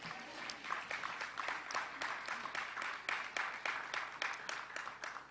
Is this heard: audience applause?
yes